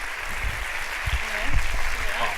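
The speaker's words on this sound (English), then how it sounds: "Please give him a big round of applause" A convention audience gives a speaker a round of applause, a soft, even wash of clapping beneath someone talking.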